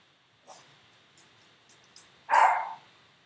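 A few soft yips and breaths, then one louder single bark close by, in an otherwise quiet space.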